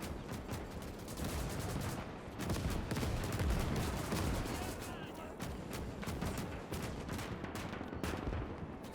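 Continuous battlefield gunfire and mortar blasts fill a winter trench battle in the video game Gates of Hell, dense crackling volleys and booms rolling without pause, with a voice faintly audible underneath.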